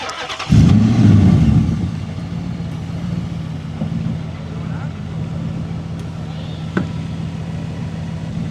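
A Dodge Magnum starts with a loud burst and revs hard for a burnout, then settles into a rumbling idle with steady low drone, a faint click later, while people shout and cheer nearby.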